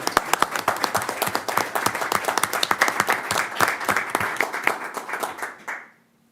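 Attendees at a school board meeting applaud with a dense, steady burst of hand clapping in a room that lasts several seconds, then quickly tapers off to silence.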